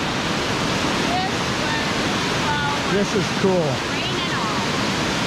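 Amicalola Falls pouring down in the rain, a loud, steady broadband rush of falling water filling the scene, with a person speaking briefly over it.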